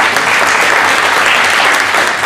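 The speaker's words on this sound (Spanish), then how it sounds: "¿Cuánto le dan un aplauso a Dios por eso?" A church congregation claps for God during a sermon, a loud, continuous roar of many hands applauding at full strength without a break.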